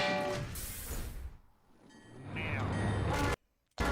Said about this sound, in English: the spy was hit by a train